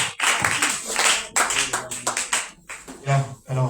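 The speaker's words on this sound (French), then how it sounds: "Tu peux te mettre debout, acclame Jésus" A church congregation at a Saturday service claps in bursts to acclaim Jesus, loud and close, mixed with voices calling out and singing over the clapping.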